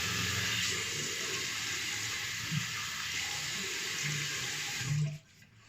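A cold-water tap runs steadily into a sink bowl, filling it for a wet shave with a Gillette Nacet blade, a close, continuous gushing hiss that cuts off abruptly near the end.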